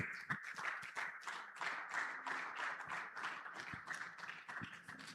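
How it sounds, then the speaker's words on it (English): Faint, distant clapping from a banking summit audience for the Standard Chartered representatives: a modest crowd with steady, evenly paced claps that neither build nor fade. "Please give it a big round of applause for Standard Chartered."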